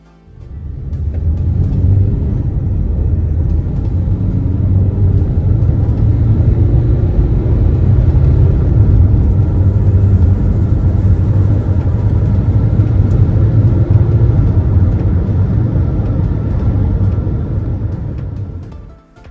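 A 2023 Renault Duster engine under hard acceleration, a loud, steady low rumble with rising drone heard from inside the car and no voices.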